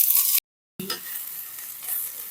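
Spring onions sauté in a hot pan for an onion-greens adai, giving a quiet, hissy sizzle with soft stirring, broken by a brief silent gap.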